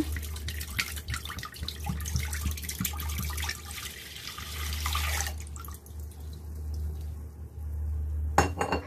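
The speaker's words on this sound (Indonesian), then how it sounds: "Kemudian kita tambahkan juga air pandannya ya." Pandan water being poured into coconut milk, a continuous liquid splash and trickle that stops abruptly, followed by a brief clink of kitchenware.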